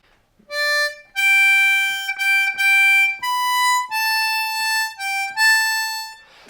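Opening phrase of Auld Lang Syne on a G harmonica, starting on the sixth blow: a short run of bright, sustained reed notes in a rising and falling line, close and alone.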